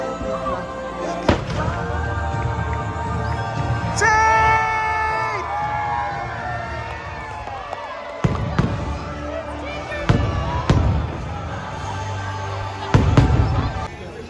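Fireworks booming and crackling at intervals over Magic Kingdom at Walt Disney World, sharp bursts spread across the clip, with a crowd murmuring and cheering in the background.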